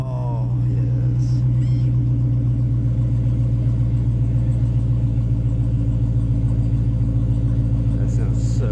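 A Dodge Hellcat V8 idles close by at an outdoor car show in Chillicothe, Ohio, with a loud, steady, deep rumbling burble and a faint voice briefly over it.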